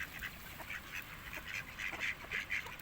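Ducks quack in a cold-weather yard while being fed grain alongside pigeons, giving a string of nasal calls in uneven bursts over soft background noise.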